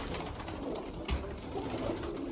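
Rooftop pigeons of the Sialkoti breed coo softly and continuously at close range, a low murmuring purr with no voices, over a steady outdoor background and one brief thump near the middle.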